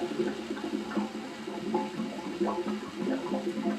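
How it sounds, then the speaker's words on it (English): Water drains from an old 66-year-old boiler tank out through a hose, a steady continuous gushing and trickling flow with irregular splashy bursts, close and fairly loud throughout. "I think that tank had water in it. It's coming out now."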